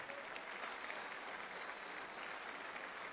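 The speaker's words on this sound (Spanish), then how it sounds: "Démele un poderoso aplauso a nuestro Rey" A church congregation applauds during a worship service, a steady, quiet wash of many hands clapping that holds evenly throughout without gaps.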